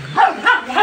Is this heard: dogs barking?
yes